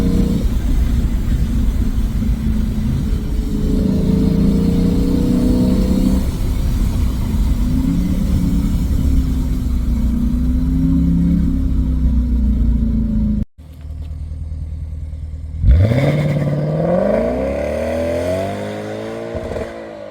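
Car running an Apex'i non-resonated exhaust drones loudly up close under load, then after a sudden cut a sharp rev climbs steeply and holds before settling.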